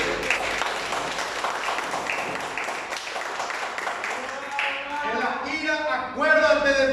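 A church congregation applauds the Lord during a service, a fairly dense burst of clapping that tapers off as a voice comes in at the end.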